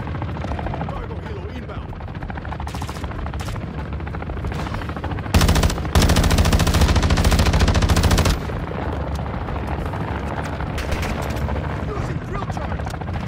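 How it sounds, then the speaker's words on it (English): A helicopter thrums steadily while bursts of automatic gunfire crackle in the online shooter Call of Duty: Modern Warfare II DMZ mode, with a loud, dense burst of shooting midway and a player talking over the din. "oh, here comes the helicopter dragon."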